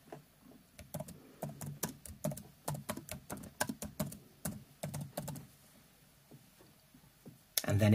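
A computer keyboard clatters with quick bursts of typing and sharp clicks in an irregular rhythm, close and fairly quiet, ending with a louder thump.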